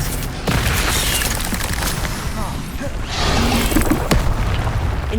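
The Expelliarmus disarming spell cast in Hogwarts Legacy, a loud booming magical blast with crackling bursts, followed by a second surge of impact noise, close and forceful, with a voice briefly heard.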